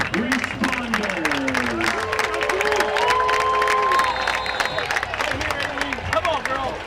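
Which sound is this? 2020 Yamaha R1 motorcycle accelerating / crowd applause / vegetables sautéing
crowd applause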